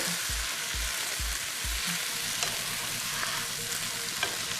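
Rice vinegar is stirred into a very hot frying pan, producing a steady close sizzle with a few low knocks of the utensil against the pan early on.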